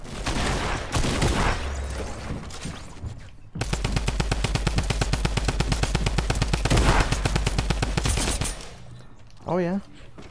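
Drum gun in a video game firing a long rapid burst of dense, regular shots, loud and close, preceded by other gunfire and ending abruptly before a brief whooping sound.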